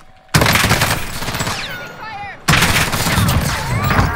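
Rapid automatic gunfire in Call of Duty Modern Warfare, two loud sustained bursts separated by a brief gap, with faint voices underneath.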